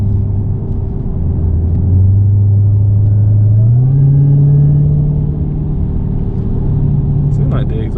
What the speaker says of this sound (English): Seems like the exhaust got a little bit louder.